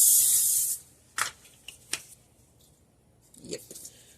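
A short burst of cooking spray hisses up close onto a hot waffle iron, then stops, followed by a few light taps and clicks and a brief murmur of voice.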